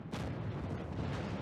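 Cromwell B tank gun firing in World of Tanks, a booming artillery-like blast that starts sharply and rumbles on with a thick low roll through the short moment, no talk.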